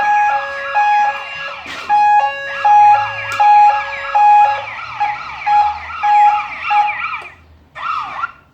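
A loud smart home security alarm siren cycles through repeating rising and falling tones for several seconds, then cuts off briefly before sounding again.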